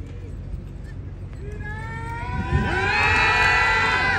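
Nukra horses in a competition ring are met by a noisy crowd, with cheering and children shouting that build into a loud, sustained din. Any hoofbeats are buried under the voices.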